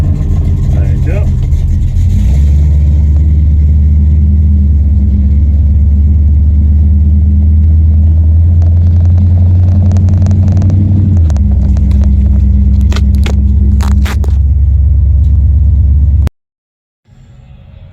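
A drag racing car with an oval port engine and a camshaft peaking around 5300 rpm runs at a loud, steady idle and rumble, then cuts off abruptly near the end, with people talking over it.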